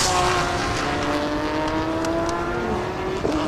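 Race cars from the 2023 Thailand Super Series, a Lexus battling a Porsche on track, hold steady high-revving engine tones that stay loud and continuous throughout, with no talk over them.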